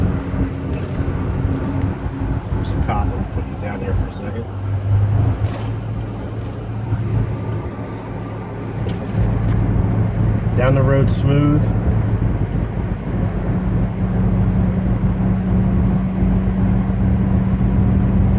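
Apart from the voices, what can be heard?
1974 Buick Century exhaust while driving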